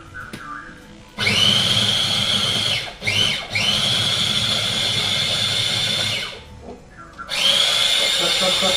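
Electric food chopper grinding in a kitchen, a loud high-pitched motor whine that runs in several bursts with short pauses between them, with brief talk at the start.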